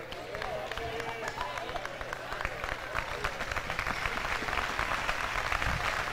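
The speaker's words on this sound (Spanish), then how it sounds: "Aplausos para Arrate Aguirre." Crowd applause at an Araski versus Ourense women's basketball game, a steady, moderately distant clatter of hands that swells slightly toward the end, with a commentator talking over it.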